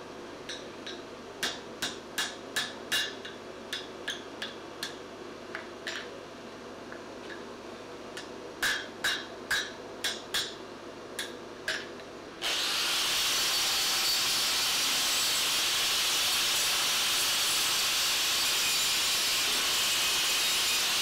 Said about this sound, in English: This is a power hammer.